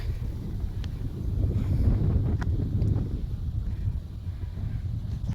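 Wind gusts buffet the microphone in a low, rumbling roar that swells and eases, with no one talking.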